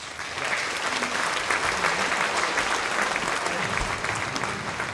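Loud, sustained applause from a large crowd welcoming candidates onto the stage at a campaign rally in the Dôme de Pontoise, dense steady clapping throughout.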